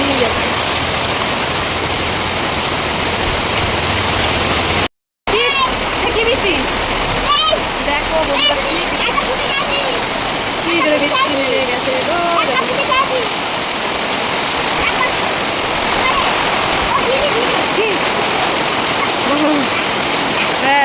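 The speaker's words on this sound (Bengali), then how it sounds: "ঠিক 12টা থেকে 12:30টার মধ্যে বৃষ্টিটা আসে" Rain pours heavily outside in a loud, continuous splashing rush, with water spattering on nearby surfaces, and voices talking faintly beneath the downpour.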